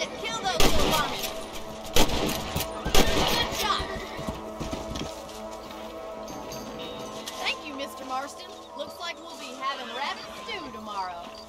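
Rifle gunshots ring out in the Western video game Red Dead Redemption, several sharp loud cracks early on amid horse hooves and game background sound, then quieter distant shots.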